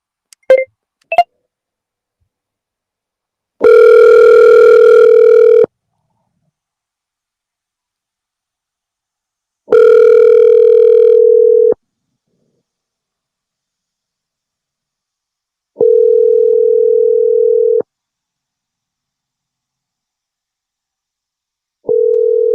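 A telephone call is placed: a few short dial clicks and tones, then long repeated ringback tones, loud and clear with silent gaps between rings.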